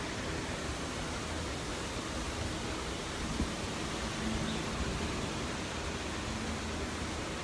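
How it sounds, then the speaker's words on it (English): A waterfall at the Pandora – The World of Avatar theme park makes a steady, dense roar of falling water, with faint ambient animal or bird calls barely rising above it. "listen to the sounds, not just of the waterfall, but listen to the sound of some of the Pandoran,"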